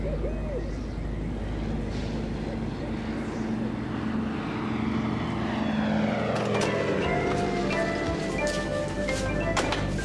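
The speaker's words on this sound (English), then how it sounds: "It's a plane." A propeller airplane flies low overhead, its engine drone building and sweeping in pitch as it passes, loud and continuous with no talking.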